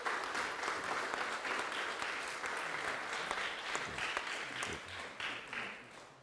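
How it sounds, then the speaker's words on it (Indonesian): A church congregation at a Sunday service claps together in a dense, even roll of applause that holds for about six seconds at a moderate, somewhat distant level. "Mari kita berikan tepuk tangan"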